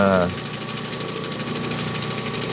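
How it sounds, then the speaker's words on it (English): A Dremel rotary tool whirs steadily and loudly as it shapes and polishes stone such as turquoise, variscite or agate, holding a constant high-pitched buzz throughout. "It is a lot harder with the Dremel."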